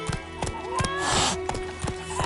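Roach, the horse in The Witcher 3, clip-clops along in an even rhythm of close hoofbeats, and a whinny rises in the middle as faint dialogue murmurs underneath.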